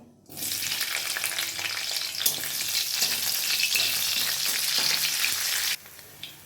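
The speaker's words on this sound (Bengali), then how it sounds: "এখন ক্যাপসিকামগুলো ভেজে নেব।" Capsicum frying in a pan of hot oil, a loud continuous sizzle that starts abruptly, holds steady with faint stirring clicks, then cuts off near the end.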